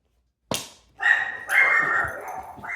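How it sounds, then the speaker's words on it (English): An indoor dog barks at someone outside, giving a sharp single yelp followed by longer, drawn-out whining barks, fairly close and loud in a quiet room. "Evidently the dog saw somebody outside."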